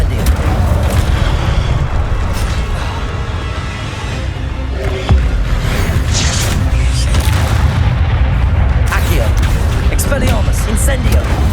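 Fire spells blast repeatedly in the Hogwarts Legacy video game, dense booming bursts layered over continuous game noise and a voice calling out spell names throughout.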